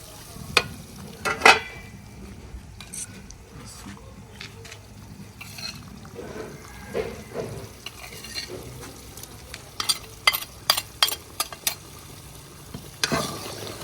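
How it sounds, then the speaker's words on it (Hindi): Chicken karahi cooking in ghee in a Shinwari-style Peshawari karahi as yogurt goes in, with a steady sizzle under repeated stirring and sharp metallic scrapes of a spoon against the pan, louder bursts of clatter toward the end. "अब हम इसमें ऐड करेंगे दही"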